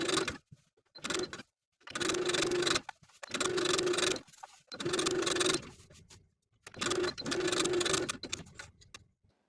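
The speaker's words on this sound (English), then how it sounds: "we're going to sew basting stitches, stitching with about 1/4 inch seam allowance" A sewing machine runs basting stitches along a blouse neckline in four or five bursts of rapid whirring, each lasting one to two seconds and separated by short pauses, close by and clear.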